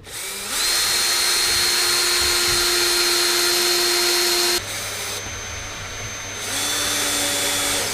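A power drill whirs steadily at high speed, pauses briefly with a change in pitch, then spins up again, loud and close.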